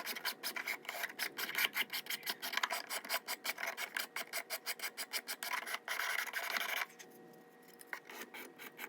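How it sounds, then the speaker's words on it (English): Sandpaper wrapped around a flat, even piece of wood rubbed in rapid back-and-forth strokes, a dry rhythmic rasp repeating steadily and close, then slowing into a few lighter passes near the end. "I just wrapped my sandpaper around it, and I can use it the same"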